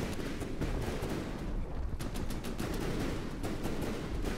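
Turret gunfire in the naval combat game From the Depths, a continuous rumble of distant cannon and rapid shots layered over one another, steady and fairly quiet throughout.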